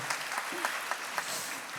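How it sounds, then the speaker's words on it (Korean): Audience applause at a parents' talk concert about school classroom change, a fairly faint, steady patter of many hands with a few sharper claps standing out and some murmur mixed in. "박수 한번 주시죠"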